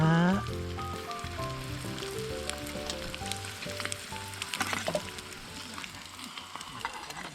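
Sizzling and crackling of eggs frying in a pan, steady and close, under background music with pitched tones.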